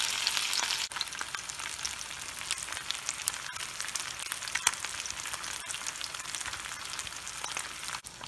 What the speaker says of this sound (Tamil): கொஞ்சம் கொஞ்சமாக இப்படி பொரிச்சு எடுப்பேன்